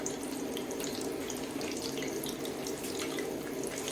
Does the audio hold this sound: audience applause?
no